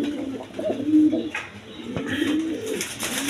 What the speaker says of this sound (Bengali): দর্শকবৃন্দ, এখানে এক পেয়ার টাইগার কবুতর আছে, দেখেন একদম কোয়ালিটি সম্পন্ন।